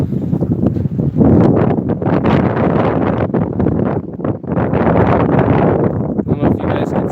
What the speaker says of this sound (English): I don't know if you guys can hear that wind out there.